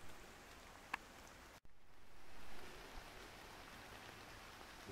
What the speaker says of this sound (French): Bon, il pleut un tout petit peu moins,